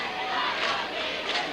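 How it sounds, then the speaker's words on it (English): Cheerleaders and a crowd cheer inside a high school gymnasium during a 1988 boys basketball game, a dense, steady wash of shouting voices with brief louder swells. "See the Thornton cheerleaders cheering up the gymnasium here."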